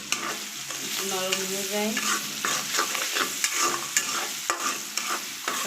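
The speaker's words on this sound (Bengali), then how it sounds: "ভালো করে একটু ভেজে নেব" Sliced onions sautéed with a little salt in a pan, a steady broadband sizzle with clattering spatula stirs and scrapes throughout, plus a brief tonal squeak near the start.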